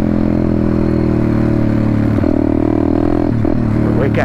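Pit bike engine while riding slowly, a loud, steady engine drone with rattling clatter and brief pitch dips near the end.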